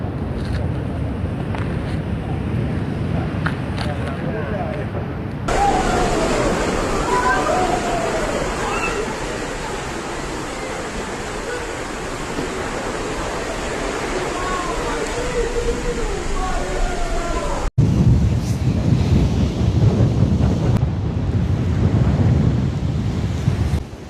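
Storm surf crashes and roars under strong, gusting wind buffeting the microphone along the southern Italian coast, a dense, loud, continuous rush with a voice talking over it.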